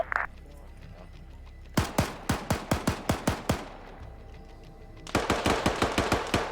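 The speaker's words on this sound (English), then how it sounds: "AT machine gun." Machine gun fire in a video game: two loud, evenly paced automatic bursts of roughly a dozen close shots each, separated by a short pause, over a low background hum with no speech.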